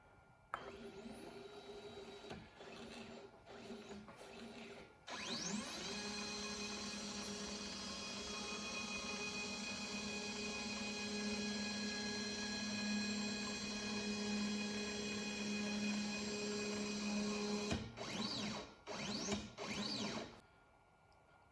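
A Genmitsu 4040 Pro CNC machine homes with a steady, loud stepper-motor whine lasting about twelve seconds, preceded and followed by short bursts of motor movement and brief pauses.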